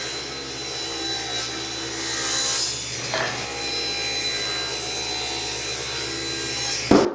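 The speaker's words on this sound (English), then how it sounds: "Cutting this 17 inches. And then I'm going to cut 1 3/4 strips." Wood is ripped into 1 3/4-inch strips in a garage with a power saw, giving a steady, loud whining cut that dips briefly midway and ends with a clunk, with no talking.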